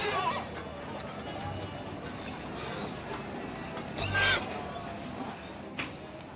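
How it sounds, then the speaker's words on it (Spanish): A horse neighs and whinnies amid a busy equestrian event before a competition, with crowd noise and speech-like chatter throughout and a louder whinny rising near the end. "¿Alguna vez has visto un caballo tan grande como este?"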